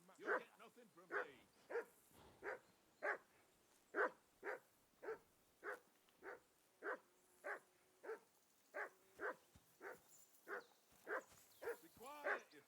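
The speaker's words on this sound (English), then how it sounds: "Be quiet, you flea-bitten hound." A dog in the medieval video game Kingdom Come Deliverance 2 barks steadily and rhythmically, about two barks a second, with faint whimpers between, moderately close and without talk over it.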